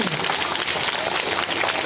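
Children clapping together at a school Independence Day celebration, a steady dense patter of applause sustained throughout with no pauses.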